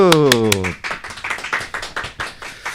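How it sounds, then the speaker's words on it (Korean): Studio clapping on a talk show follows a brief voice and settles into a quick, even rhythm of sharp, close claps. "박수"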